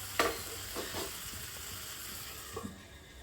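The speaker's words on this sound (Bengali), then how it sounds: "খুন্তির সাহায্যে ভালো করে নেড়ে চেড়ে মিশিয়ে নিচ্ছি" A spatula stirs and fries pointed gourd curry in a pan, giving a soft steady sizzle with a few scraping strokes, fairly quiet and close, and no speech.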